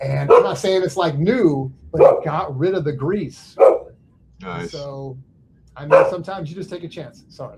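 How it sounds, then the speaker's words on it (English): A dog barks inside a house, short barks mixed in with someone talking steadily close by. "Sorry about the dog barking"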